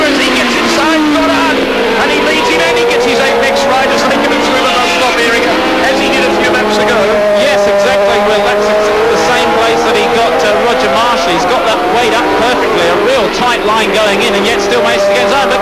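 Racing motorcycles, an 820cc Yamaha and a Honda, scream around Lakeside Raceway with continuous high-revving engine whine and shifting pitch as they pass, while a commentator talks over the roar.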